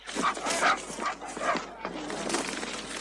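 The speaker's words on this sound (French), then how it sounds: "Qu'est-ce que vous faites avec ce chien? C'est le meilleur pisteur de la région." A tracking dog in a film scene gives excited yips and whimpering barks in several bursts, loud and close, with voices speaking around it.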